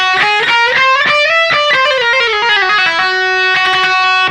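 Electric guitar with a distorted, effected tone playing a quick whole-tone scale lick, evenly stepped notes climbing and falling, sustained notes ringing between picked phrases.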